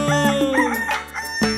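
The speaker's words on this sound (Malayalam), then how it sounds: "പൂങ്കോഴികൾ കൂകുന്നു" A cartoon rooster crows in a children's nursery rhyme, a bright drawn-out cock-a-doodle-doo carried over a sung melody and musical backing.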